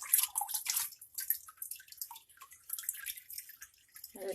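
Water drips and trickles steadily from a paper-making mold and deckle just lifted from a vat of fiber-laden water, a close, soft pattering that gradually thins out.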